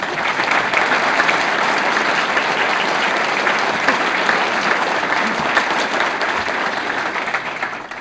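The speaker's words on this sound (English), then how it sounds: "make sure you applaud loud enough that everyone can hear" Dense, sustained applause from a large audience honoring students at the dedication of a university engineering and physics facility, steady and loud throughout with no break.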